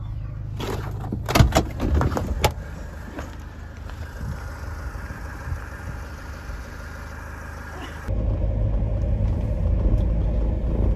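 A camper van's engine rumbling from inside the cab as it pulls away on a Scottish road, with some thumps and rattles at first and then a louder steady drone as it picks up.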